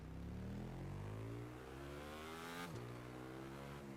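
A KTM street bike in The Crew 2 revs up through rising engine tones, shifting with a sharp drop around the middle before climbing again, steady and fairly quiet.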